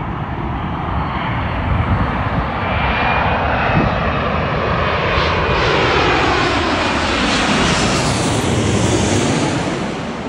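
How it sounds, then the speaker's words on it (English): An Airbus A350 jet passes overhead at an airport: a loud, sustained engine roar with a swelling whine that gradually shifts in pitch as the aircraft goes by. "A350 from Austin, Texas."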